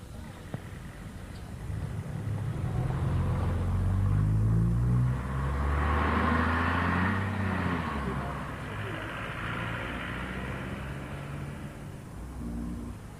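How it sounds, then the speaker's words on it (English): An ex-London Transport Routemaster bus, RM 1969 (WLT 969), travels along Shirley Road in 1988, its low diesel engine rumble steady and droning throughout with a rise in the middle, no voices over it. "We travelled along Shirley Road aboard vehicle WLT 969, which is ex-route master RM 1969"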